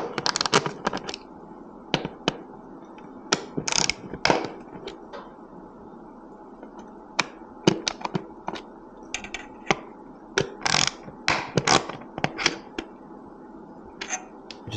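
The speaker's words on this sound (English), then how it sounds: "I'm just going to go ahead and remove these screws" Screws are being worked loose from the air filter cover of a KTM Svartpilen motorcycle, making a run of close, sharp clicking and ticking taps in irregular clusters.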